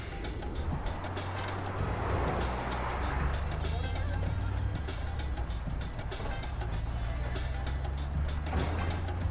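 A vehicle convoy in Far Cry 4 rumbles by, a steady low engine drone from trucks and cars with faint clanks. A voice talks briefly over it.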